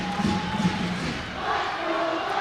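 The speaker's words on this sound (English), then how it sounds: "A lot of that noise was coming from the baseline bleachers where the blue crew is." A basketball crowd cheering from the baseline bleachers at an NCAA game, a steady roar of many voices with sustained yells, moderately loud and fairly distant, continuous throughout.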